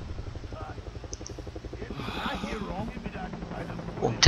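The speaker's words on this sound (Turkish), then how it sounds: "tepemizde sürekli bir helikopter" A helicopter hovers overhead in the video game Far Cry 3, a steady pulsing rotor throb that runs throughout beneath game sounds and people talking.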